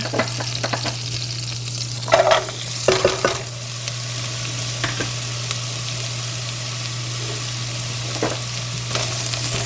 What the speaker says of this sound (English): I'm going to go ahead and put my onions in there, and we're just going to fry those up